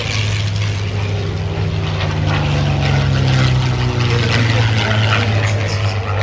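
A Yak-3 propeller fighter drones steadily overhead at a Planes of Fame Central Coast airshow, its engine a continuous loud hum with a strong low tone, while a voice talks over it.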